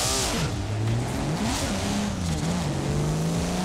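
Nissan Skyline R34 in Forza Horizon 4, stock and untuned, its engine revving steadily with pitch rising and falling through several sweeps, loud and close with no talk over it.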